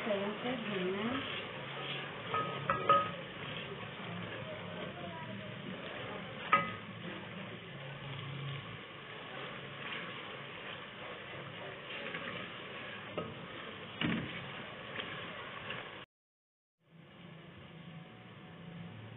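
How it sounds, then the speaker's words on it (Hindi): Spices sizzle and fry in a pan while being stirred for Lahori daal anda, a steady close crackle with occasional scraping clinks, broken briefly by a moment of silence near the end; someone talks over it. "इन सारे स्पाइसेस को अच्छी तरह से भूनना है।"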